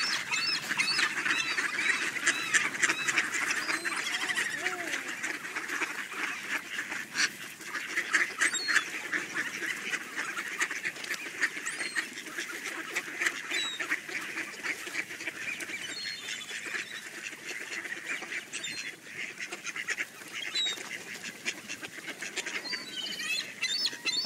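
A crowd of ducks quacks and honks continuously nearby on a snowy day in Victoria, overlapping calls forming a busy, noisy chorus for the whole stretch.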